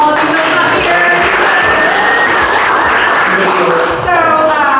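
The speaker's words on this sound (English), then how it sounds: "So let's give him a round of applause." Audience at a January mixer at a wine and ale house venue in Cibolo, Texas, breaking into steady clapping and cheering that runs throughout, with voices mixed into the crowd noise.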